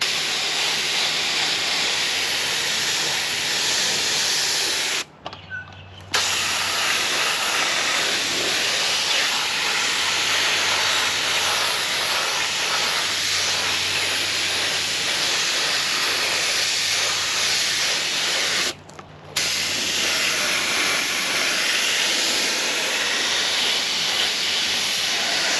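Spray paint hissing through a stencil onto a vehicle panel in a garage: a loud, continuous spray hiss, broken by two short pauses.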